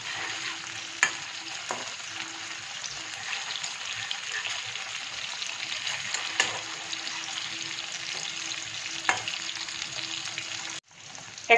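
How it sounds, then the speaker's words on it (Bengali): Chicken frying in oil over a medium flame for chilli chicken, a steady close sizzle with occasional spatula scrapes and taps, ending in a brief clatter. "মিডিয়াম ফ্লেমে আমি চিকেনগুলো ভেজে নেব"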